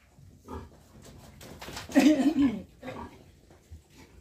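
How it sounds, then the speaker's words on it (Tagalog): Pigs grunt and snort in a newly built piggery, with a louder burst of grunting in the middle over a low, busy farmyard background. "Yun po ang piggery. Paglalagyan ng biik."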